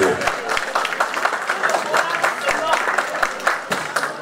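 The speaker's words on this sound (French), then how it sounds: "Je vous demande d'applaudir les membres d'Adinga." An audience at a community fraternity evening in Paris applauds with a dense, fairly loud stream of claps from many hands. Voices and crowd murmur mix in underneath.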